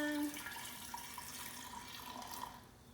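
Raw kombucha trickles into a jar with a soft, quiet splashing and gurgle that continues for a few seconds, close and faint.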